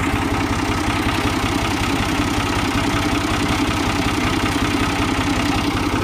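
A tractor engine idles on farmland being prepared for a berseem crop, a steady, rapid low throb that stays close and even with no break.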